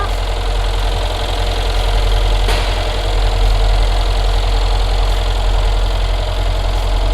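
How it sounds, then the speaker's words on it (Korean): A Mercedes-Benz S-Class W222 S63 AMG 4MATIC engine idling steadily, heard close in the engine bay, a constant low rumble with a faint ticking texture and no change in pace throughout. "엔진 소리 일정하네요."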